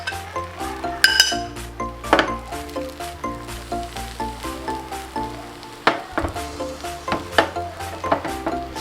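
Metal utensil clinking repeatedly against a pan while masala omelette egg batter goes into a hot pan, sharp clinks and scrapes in an irregular rhythm over a faint sizzle.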